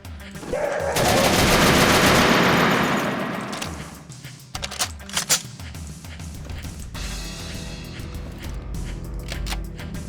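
Rapid automatic gunfire rattles from a weapon in the video game Dead Trash, a dense loud burst lasting several seconds, then a few separate sharp shots against quieter game ambience.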